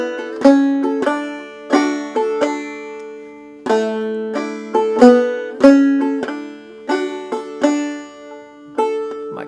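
Banjo plucking out a phrase of the old-time tune I'd Rather Be An Old-Time Christian, a bright picked melody with a steady rhythm of ringing plucked notes, close and clear, with no talking.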